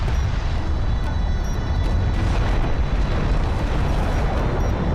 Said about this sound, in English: Alert, light attack vehicle destroyed.